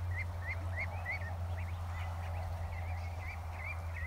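Ducks at a creek give repeated short calls at a steady pace over a constant low rumble and a background wash of noise.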